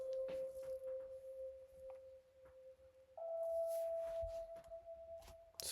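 A soft, steady sine-wave tone with reverb and a low cut plays in a quiet music loop. It holds one pitch, then steps up to a slightly higher one partway through.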